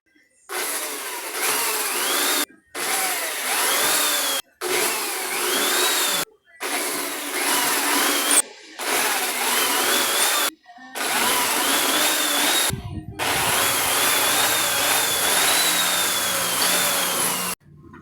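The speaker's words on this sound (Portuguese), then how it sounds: "Agora eu vou furar" A power drill bores into wood in about seven separate bursts, each a loud, steady whine broken by short silences, with a longer final run.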